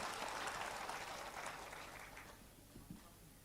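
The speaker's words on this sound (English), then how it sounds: "Can we hear a louder applause for them?" Quiz-show audience in Manipur claps for the teams, a burst of applause that tapers off after about two seconds into faint scattered claps.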